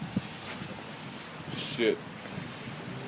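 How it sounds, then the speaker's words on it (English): Rain falls outside near a gazebo as a soft, steady wash of patter with a brief louder rustle in the middle, and a person swears once. "Holy hell, yep, it's raining."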